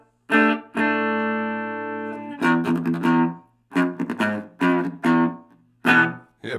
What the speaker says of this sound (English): bring the time all the way down, and you got yourself a little bit of a reverb, a little springy